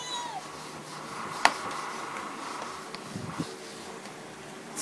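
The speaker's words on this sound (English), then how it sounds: "What's that? Kitty." A cat meows indoors, a few short faint cries with one sharper call standing out, set against a quiet room with soft background noise.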